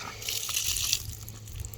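A garden-hose spigot on a home water collection tank lets water gush out in a steady, close hiss, strongest for the first second before easing slightly.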